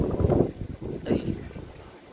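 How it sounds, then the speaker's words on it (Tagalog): Wind gusting across a microphone on an open hilltop garden, a low rumbling buffet that swells twice, with brief voice sounds. "Ang hangin dito guys."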